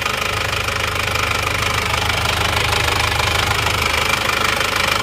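Isuzu Panther automatic diesel engine with heavy blow-by from a badly damaged cylinder liner, running steadily with a loud, continuous knocking rumble throughout, close by and with no talk over it.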